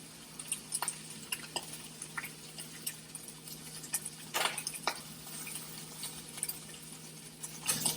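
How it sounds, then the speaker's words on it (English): Soft crackling and popping from bacon frying in a pan, with scattered louder spits and occasional utensil clicks, fairly quiet and steady throughout. "listening to the sizzling sound"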